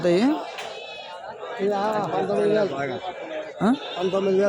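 Goats and sheep bleat at a weekly livestock market in Kadiri, with repeated wavering calls close by, mixed with people talking and crowd chatter throughout.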